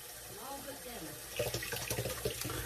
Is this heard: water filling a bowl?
yes